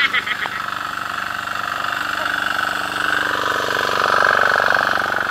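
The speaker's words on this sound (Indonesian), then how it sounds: "Tapos may maingay pang motor." A noisy motor runs steadily near a waterfall resort, a loud, constant mechanical drone with a faint rhythmic throb that swells slightly toward the end, no talk over it.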